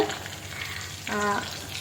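Chicken frying in a pan on a kitchen stove for biryani, a soft continuous sizzle, close by, with a brief tonal hum rising in the middle.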